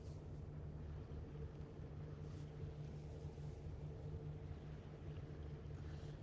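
A Red Funnel ferry sits in dock with its engines running, giving a steady, low, droning hum with a constant mechanical tone and no break, heard from on board or nearby.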